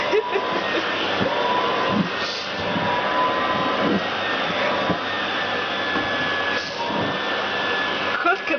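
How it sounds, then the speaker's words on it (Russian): A vacuum cleaner drones steadily at moderate volume while it is run over a cat, a continuous whine with small shifts in pitch as the nozzle moves and faint background sounds. "Кот, который любит, чтобы его пылесосили."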